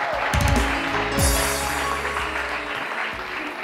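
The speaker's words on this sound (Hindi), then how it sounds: "डॉक्टर मुजना के लिए बहुत सारी तालियां जी।" A studio audience at a television morning show claps, a short burst of steady applause under a music bed, moderately loud and fading slightly toward the end.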